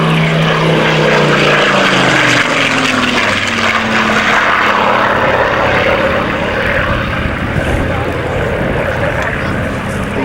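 A loud Hawker Hurricane propeller fighter roars steadily overhead at an airshow, its engine drone with shifting harmonics filling the scene, with some wind-like noise throughout.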